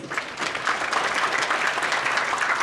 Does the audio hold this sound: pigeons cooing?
no